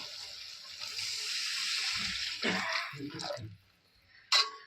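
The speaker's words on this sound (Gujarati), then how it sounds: "હવે અમારે રેડવાનું છે આપણે પાણી" Water is poured into a pot of garlic chutney curry in a home kitchen, a splashing gush that swells and trickles in a few uneven bursts, then a brief final splash after a short pause.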